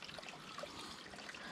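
Water trickles steadily into a plastic smart water bottle on the Benton MacKaye Trail, a continuous close hiss and dribble with no pauses.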